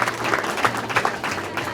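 Audience clapping at an International Women's Day celebration in Mahama refugee camp, a steady wash of many hands applauding at moderate loudness for a couple of seconds.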